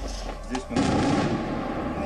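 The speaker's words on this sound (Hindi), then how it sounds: "रूस के फाइटर जेट्स और मिसाइलें इलाके में धमाके करते दिखाई दे रहे हैं।" Explosions from Russian fighter jets and missiles striking during heavy fighting around Bakhmut in war footage: a muffled thud, then a sustained loud, rumbling blast that fills the rest of the moment.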